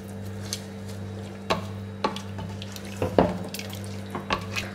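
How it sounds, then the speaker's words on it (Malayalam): Rice stirred into a pot of boiling water for Ambur chicken biryani, with a steady low bubbling hum, a few soft watery swishes and light knocks of the spoon, close by and moderate in level. "ഈ അരി നമുക്കൊന്ന് ഇളക്കി യോജിപ്പിക്കാം."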